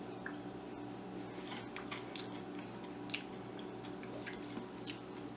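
Crunchy chewing of an eaten bug, close and quiet, with repeated crisp bites and squishy crackles scattered over a low background hum, no talking.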